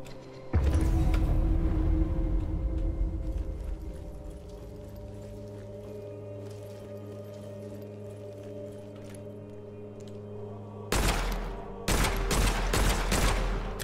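Revolver gunfire in the video game Witchfire comes as a sharp initial blast with a long ringing tail, then a quick cluster of loud shots near the end, without any speech.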